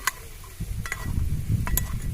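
Ground spices fry with ginger, garlic and onion in a pan, giving a close, soft sizzle broken by a few scraping stir strokes.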